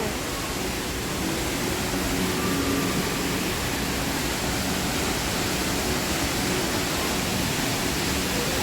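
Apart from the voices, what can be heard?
Jewel Changi Airport indoor waterfall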